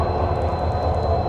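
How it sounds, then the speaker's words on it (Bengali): Teesta Torsa Express, an NJP to Kolkata train, pulling away from New Farakka Junction, heard as a steady close rumble of wheels and carriage noise with a regular low rhythmic thump, no voices. "নিউ ফারাক্কা জংশন থেকে আমাদের ট্রেন ছেড়ে দিল।"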